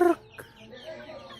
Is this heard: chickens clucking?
yes